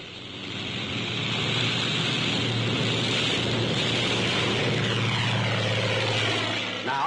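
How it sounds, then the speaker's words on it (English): A Grumman Avenger carrier plane takes off from a carrier deck on propeller thrust alone, its engine a loud, steady broadband roar that swells in the first second and holds close throughout. "A carrier plane takes off, relying solely on propeller thrust."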